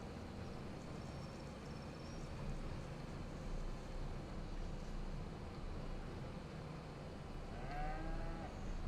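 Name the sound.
cattle mooing in video game Farming Simulator 25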